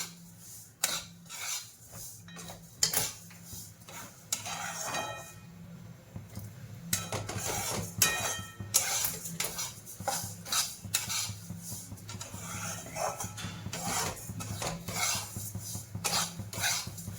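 Homemade Maharashtrian masala roasting in a pan with oil while being stirred continuously, a steady run of metallic scrapes and clinks with faint sizzling beneath, close and busy throughout.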